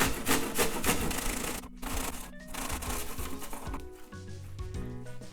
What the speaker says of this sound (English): And we're also going to grate this apple as well.